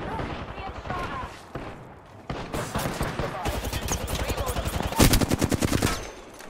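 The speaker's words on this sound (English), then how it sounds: "Pull on the trigger. Being shot at." Gunfire in the Apex Legends video game: rapid automatic bursts and volleys of shots, close and loud, growing denser toward the end, with a voice talking over parts of it.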